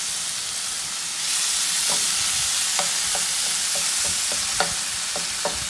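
Garlic, chopped cilantro and olives sizzle and fry in a pan over medium-low heat, a steady hiss broken by scattered pops and crackles, with occasional stirring clicks close by.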